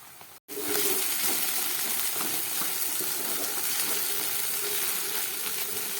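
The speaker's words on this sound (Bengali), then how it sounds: "এটাকে একটু খানিকক্ষণ ভেজে নিই" Half a slightly unripe tomato frying in a pan for a fish-roe and onion-stalk curry, a steady close sizzle and hiss that starts after a brief silent gap and holds evenly to the end.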